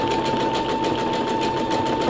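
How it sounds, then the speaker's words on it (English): A Brother SE625 sewing machine stitches a decorative design stitch through a single layer of leather, giving a steady, even mechanical whir with a rapid pulsing rhythm and no voices. "Well, now let's start sewing."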